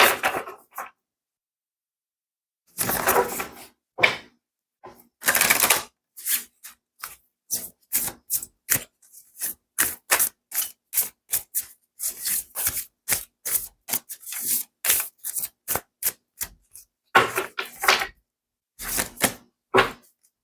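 Oracle cards are shuffled and pulled during a tarot-style reading, heard as a long run of crisp, papery riffles and flicks in quick bursts with short pauses, close and fairly loud with no talking.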